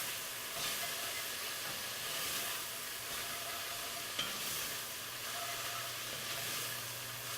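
Venison fat pieces and onions sizzle in a pan, a close, steady hissing fry with a faint clink partway through and no talking.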